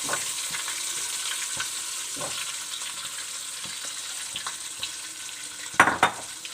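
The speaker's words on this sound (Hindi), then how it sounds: "10 से 15 मिनट हल्की आंच पे अच्छी तरीके से हम इसे घी में भूनेंगे" A ground makhana and chana dal mixture frying in ghee over low heat, with a continuous close sizzle and soft stirring scrapes, then a few louder spoon knocks on the pan near the end.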